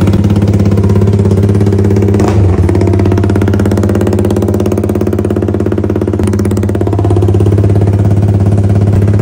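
A Suzuki Raider 150 Fi motorcycle's engine runs loud and close with a steady, pulsing idle rhythm and a couple of brief blips in revs.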